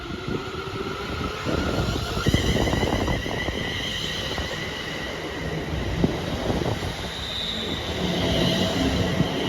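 A Class 380 electric train runs through Paisley Gilmour Street station bound for Glasgow Central, rumbling steadily close by with wheel squeal, track clatter and a sustained tonal whine.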